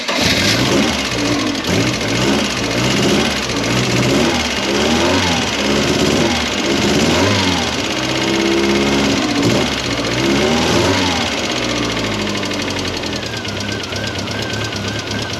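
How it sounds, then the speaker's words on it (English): A 1970s MK1 Ford Fiesta petrol engine runs steadily after a tappet adjustment, idling close by with a rough, pulsing mechanical tick and occasional light revs throughout, no voices. "the engine sounds a lot better"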